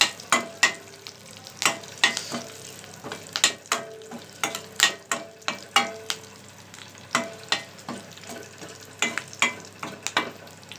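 Tempering spices frying in a pan for ridge gourd chutney give a steady close sizzle, broken by frequent sharp spoon clinks and scrapes against the pan in an uneven rhythm, with no talk.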